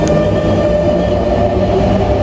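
A Paris RER commuter train rumbles steadily from inside the carriage, loud and continuous, with a low droning hum and faint rail hiss and no voices.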